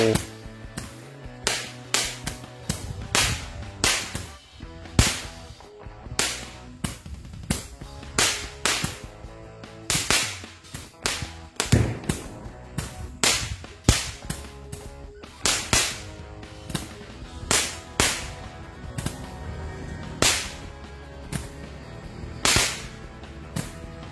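Firecrackers going off on takbiran night, a rapid, irregular string of sharp, loud bangs and cracks, some in quick bursts, continuing for the whole stretch with no talking.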